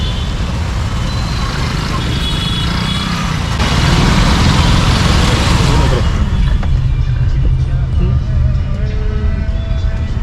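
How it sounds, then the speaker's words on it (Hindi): Dense road traffic with car and truck engines rumbles loud and close for the whole stretch, a continuous broadband roar that swells midway as heavier vehicles pass nearby. "आगे भी ट्रैफिक, पीछे भी ट्रैफिक, ट्रैफिक ट्रैफिक चारों तरफ"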